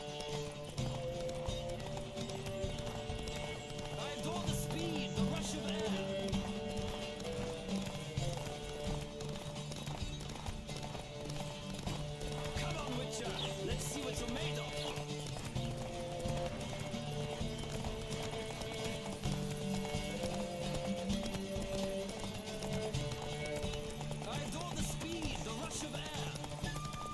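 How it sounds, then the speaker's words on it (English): Horses gallop with steady clip-clop hoofbeats in The Witcher 3, running continuously over dense game music and ambience throughout. "Don't spare the horse!"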